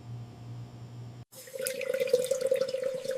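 Tap water pours into a container to test eggs for rotting, beginning after a short low hum with a sudden close, bright gushing and splashing that grows louder and keeps running to the end.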